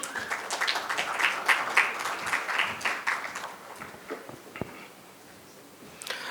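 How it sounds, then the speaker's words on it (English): A conference audience applauds at a mutual fund event as a memento is presented, a dense round of clapping that thins out and fades, leaving a few scattered claps. "A round of applause"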